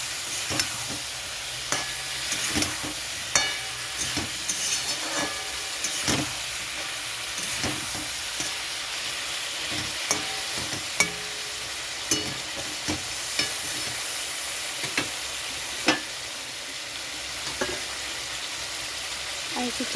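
Catla fish curry with papaya, potato, cumin paste and spices fries and sizzles in a pan, a steady hiss broken by regular scraping knocks of a spoon stirring, with no talking over it.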